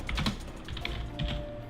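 Typing on a computer keyboard in screenwriting software, a quick run of light, uneven key clicks close by with a few slightly heavier presses, and no one speaking.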